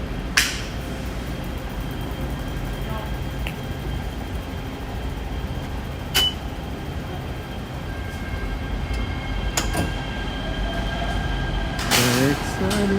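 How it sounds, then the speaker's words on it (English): A Los Angeles metro train in an underground station rumbles steadily throughout, with occasional sharp clanks and squeals and a burst of brake hiss near the end, while voices talk faintly nearby. "So that's the train that we just got off of."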